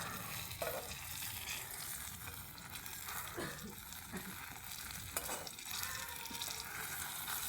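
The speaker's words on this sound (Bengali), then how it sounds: "হয়ে এসেছে আমার বেগুন ভাজা" Eggplant slices fry in a pan with a soft, continuous sizzle and occasional stirring scrapes, quiet and close with no talking.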